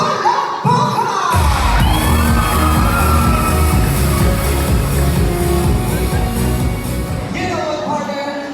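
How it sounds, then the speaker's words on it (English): An audience at a Mr and Ms pageant production number in Guimba erupts into loud, sustained cheering and shrieking, with applause mixed into the dense roar throughout. "Pwede naman ang hiyawan at palakpakan!"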